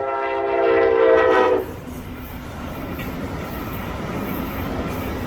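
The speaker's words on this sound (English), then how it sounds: "the first test train passed through" A Brightline higher-speed test train passes on the Florida East Coast line, working up from 79 mph toward 110 mph. A loud horn blast sounds first, then a steady, rushing roar of rail noise as the train goes by.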